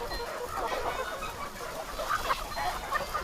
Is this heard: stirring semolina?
no